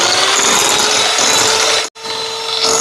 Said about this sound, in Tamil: ஒன்று ரெண்டு சேர்த்துட்டு ஒரு நிமிஷம் பீட் பண்ணிடுவோம்